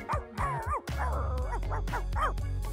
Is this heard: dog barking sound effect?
yes